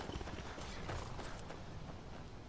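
Horse hooves clip-clop in the video game Skyrim, a quiet, steady patter of repeated footfalls with faint creaks, with no voices over it.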